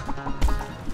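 A chicken in the video game Chicku clucks in a few quick, close bursts, with a low thump in the middle.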